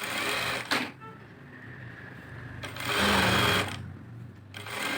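Sewing machine stitching a lined blouse, running in short bursts of fast, even mechanical chatter separated by brief pauses, close and clear.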